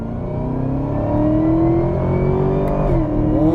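A 2020 Camaro ZL1 1LE engine revs and accelerates hard uphill on a track, its pitch climbing steadily with a brief shift near the end, loud and close.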